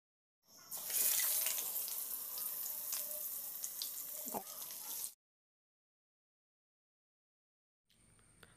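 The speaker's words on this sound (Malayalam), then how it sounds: "അപ്പം നമ്മൾ കഴുകി നല്ലോണം വൃത്തിയാക്കി എടുക്കുക." Freshly caught yellow catfish are rinsed clean under a running tap, a close, splashing gush of water that starts abruptly, runs for a few seconds and then cuts off to silence before faint noise returns.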